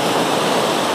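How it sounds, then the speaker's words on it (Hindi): Fast, swollen river water rushes in a loud, dense, unbroken roar up close. "यहाँ पे देखिए पानी भी कितना तेज़ हो चुका है देखिए।"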